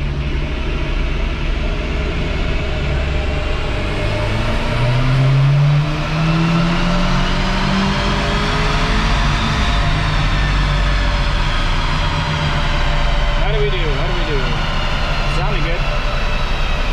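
A 2015 Audi S3 with an APR Stage 1 tune accelerates hard in third gear, its engine note climbing steadily in pitch over road rumble while someone talks throughout.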